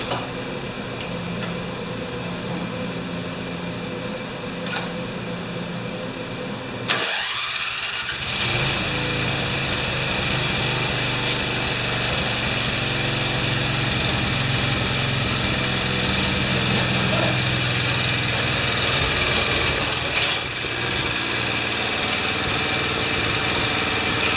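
A lawn mower with an automatic starter cranks over and catches, then runs at a steady, close, buzzing idle for the rest of the stretch, with no talk over it.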